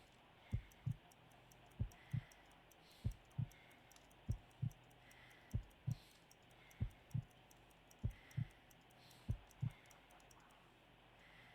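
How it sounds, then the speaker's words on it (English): A slow, weak heartbeat is counted in the Sherlock Holmes Crimes and Punishments video game: steady paired lub-dub thumps, about nine pairs and roughly fifty beats a minute, sound close and alone over a faint background hum. "I need to concentrate and count the heartbeats."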